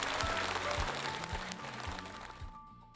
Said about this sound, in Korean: 다시 한번 박수 한번 보내주시고요